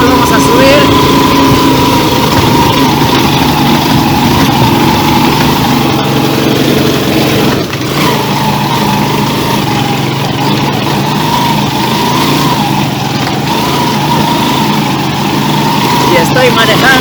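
A 150cc motorcycle fitted with a 125 carburetor climbs a steep clay hill, its small engine droning steadily and loudly close by with a slight dip in the middle, while someone talks over it.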